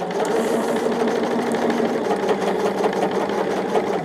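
Sewing machine stitching large pieces of fabric, a loud continuous rapid whirring hum with a rhythmic needle clatter, close and uninterrupted.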